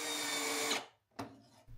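Power screwdriver driving screws into clamped wooden furniture made from repurposed CD towers: a steady loud whir for under a second, then two short bursts after a brief pause.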